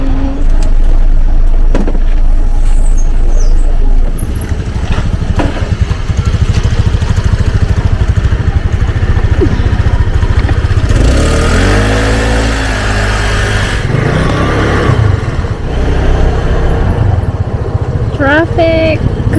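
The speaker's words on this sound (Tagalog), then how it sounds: "Traffic." Road traffic with cars and motorcycles passes in a steady, loud low rumble, heard from inside a moving vehicle. Engines swell and fade as vehicles go by, with scattered background noises.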